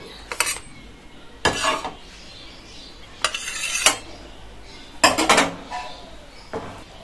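Toasted bread slices lifted out of a frying pan for an egg toast breakfast. Several sharp clattering utensil scrapes and knocks in irregular bursts over a faint background sizzle, close by.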